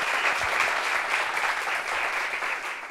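A studio audience breaks into loud, dense applause that holds steady for the full three seconds, with no voices over it.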